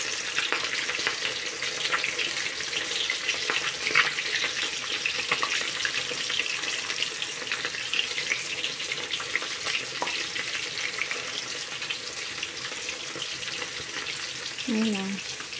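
Chicken legs sizzle and fry steadily in a pan for a lhoney-lemon garlic chicken dish, a continuous dense crackle with occasional stirring and a brief voice near the end.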